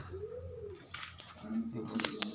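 Pigeons coo in a soft, low rolling call near the start, followed by a few brief chirps and scuffling noises close by.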